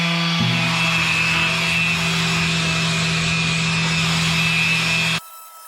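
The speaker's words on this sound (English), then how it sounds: "So I've got some 120 grit on this. And this is my 5-inch sander." A 5-inch power sander fitted with 120-grit paper works cabinet wood in a steady, close, loud whir with a high whine, running alone until it cuts off abruptly near the end.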